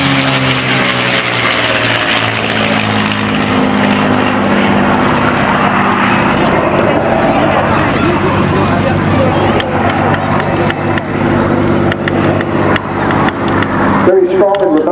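Aerobatic propeller plane making a top-side pass at the Eastbourne airshow, a loud sustained engine roar that swells and shifts in pitch across the pass, with a commentator talking over it throughout.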